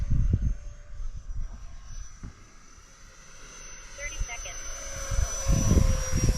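A tiny RC MB-339 model jet flies overhead with a thin steady high-pitched electric whine, moderately distant, over outdoor wind rumble and bumps; faint voices are present.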